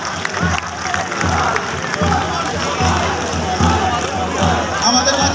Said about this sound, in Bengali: একটা হাততালি দেই